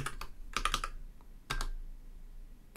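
Bursts of typing on a computer keyboard during a live Raspberry Pi 4 Kubernetes setup, with a quick cluster of keystrokes, a pause, then a few more taps, close and fairly quiet.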